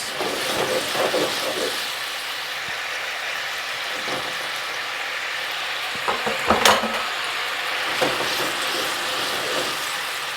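Pollo puchinella sauce, oil emulsified with the liquids, simmering and reducing in a pan, a steady bubbling sizzle broken by scattered pops and scrapes of stirring, heard close with no talk.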